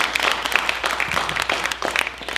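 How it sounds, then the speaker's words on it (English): Audience applause for six panelists at a 1968 Wilson High School desegregation panel discussion, a steady wash of many hands clapping at moderate level for a couple of seconds. "Let's give them all a applause."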